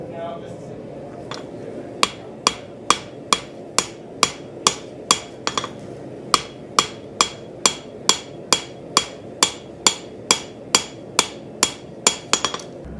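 A bladesmith's hammer strikes a knife blade during forging, landing about two sharp metallic blows per second in a steady rhythm with occasional quick double hits, loud and close over a low background hum.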